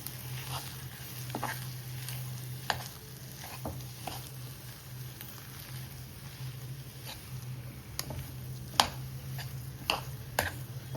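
Salted potato filling for vada pav is mixed by hand in a bowl: faint soft squishing with scattered light clicks and taps over a steady low hum, with no voices.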